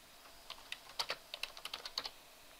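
Keys clatter on a computer keyboard as text is typed, a dozen or so crisp, irregular keystrokes at close range in an otherwise quiet room.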